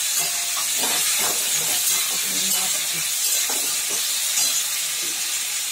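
Ginger paste hitting hot oil in a pan gives a steady broadband hiss and sizzle throughout, with faint scraping and clinks underneath.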